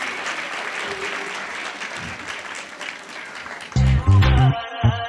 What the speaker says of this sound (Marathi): आमच्या चिमुकल्यांसाठी टाळ्या वाजवल्या तर आनंदच होईल आम्हाला